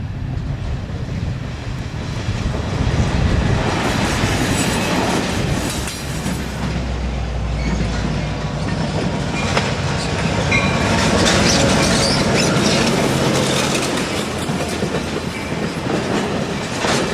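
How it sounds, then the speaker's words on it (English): An eastbound Amtrak Capitol passenger train rolls past on the UP track in Niles Canyon, a steady loud rumble with clickety-clack of wheels over rail joints and engine drone throughout, no talking. "we caught an eastbound Amtrak Capital on the UP track"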